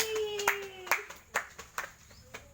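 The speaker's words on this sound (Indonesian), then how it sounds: "Beri tepuk tangan untuk Ujar Aji" A small class claps for a student after a microteaching lesson. The claps come as a few sparse, uneven hand strikes, faint and close, with a tonal hum running underneath.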